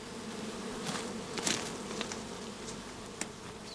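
A loud, close mass of honey bees hums continuously inside a gauze-sided shook swarm box, with a few faint knocks rising above the steady drone and no voices.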